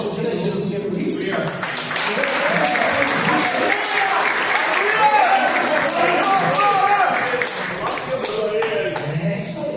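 A church congregation breaks into loud, sustained applause for Jesus during a sermon, dense clapping filling the room for nearly ten seconds with voices and a few shouts mixed in.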